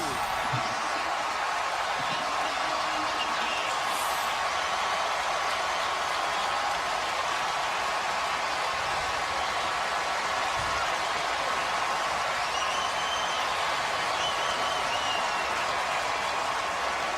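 A stadium crowd at a Georgia versus Ole Miss football game roars after a Georgia touchdown pass, a dense, continuous wall of distant cheering throughout, with commentators talking over it.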